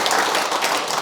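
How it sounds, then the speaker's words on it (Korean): A dense burst of audience clapping fills a lecture hall, loud and continuous throughout, with no voices over it. "박수 한번 부탁드립니다"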